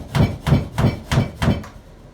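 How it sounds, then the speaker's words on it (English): Five sharp, evenly spaced mallet taps on a wooden shim wedged behind a glued wall mirror, each a close, solid knock with a quick fade, steady rhythm and no voices. "I want to show you guys how to take a mirror off the wall with shims and a mallet."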